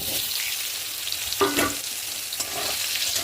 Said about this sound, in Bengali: এবারে আমি এই ওল সিদ্ধটা তেলের মধ্যে দিয়ে দেবো